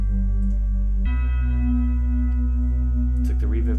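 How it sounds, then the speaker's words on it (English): A deep, sustained sub bass note booms beneath a hip-hop beat, shifting to a new pitch about a second in, with brighter synth tones above. "Nice sub bass here."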